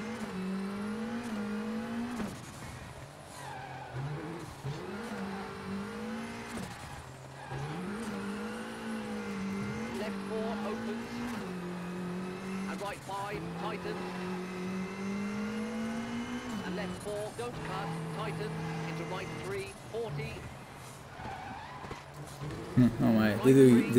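A rally car engine in WRC 7 drones and revs steadily at a distance, its pitch rising and dipping through corners with faint tyre scrubbing as the car understeers, while a voice talks over it most of the time.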